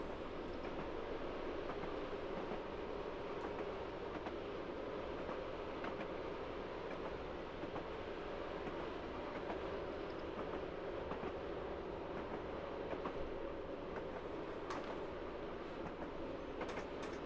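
A Class 111 diesel multiple unit train coasting with the throttle closed at about 40 on the Falmouth branch in a train simulator game, a steady low rolling rumble and hum with faint track clicks throughout, no voices.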